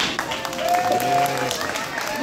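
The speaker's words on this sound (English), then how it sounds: "She's clapping now." An audience claps at a school kindergarten graduation ceremony, steady applause running under voices and crowd chatter throughout.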